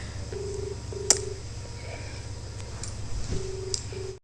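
A father's phone dials a call with a few short electronic keypad tones spaced apart, followed by a brief sharp click, all fairly close against a quiet room with no talking.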